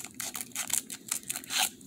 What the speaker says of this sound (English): Okay, let's open up the next pack.